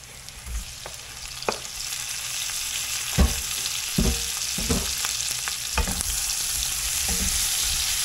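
Tomatoes sauté with pork belly and squash in a hot pan, a steady sizzle running throughout, with scattered scraping knocks from a utensil stirring the pan, close and fairly loud, no talking.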